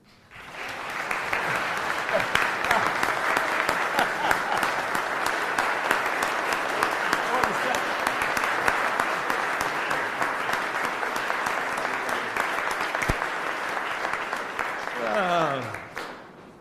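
Sustained audience applause for a county executive taking the stage at a 2025 executive budget address, a dense, steady wash of clapping from a large crowd lasting about fifteen seconds before tapering off at the end.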